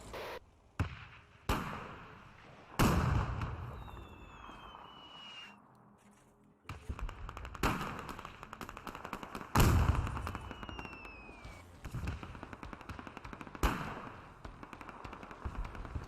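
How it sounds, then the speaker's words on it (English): Mortar strikes land in a World War II battle in the video game Men of War 2, a series of sharp, booming impacts at irregular intervals with rumbling tails between them, some louder and closer than others. "Just random mortar strikes coming in"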